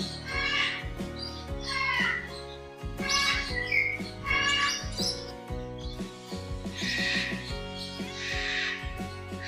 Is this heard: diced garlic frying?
no